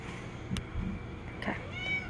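A tiger-striped cat meows indoors, two or three short, fairly close mews spaced over about two seconds against a quiet room.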